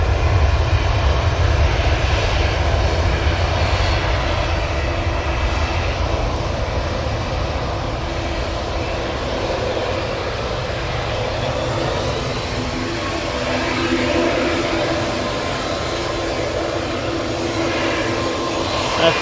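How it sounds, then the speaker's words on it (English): Propeller aircraft engines drone steadily at Manchester Airport, a continuous low rumble with a broad hiss that holds for the whole stretch at moderate distance, with no talk over it. "I'm pretty sure you can hear the props in the background"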